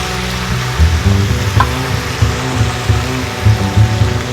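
Jumbo quails fry in a mix of vegetable and canola oil, a close, steady sizzle with low bubbling pulses that swell and ease irregularly, with no talking.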